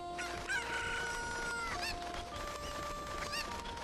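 Cucco chickens in the video game The Legend of Zelda: Ocarina of Time cluck and crow several times in quick succession, loud and close, over sustained tones from the game.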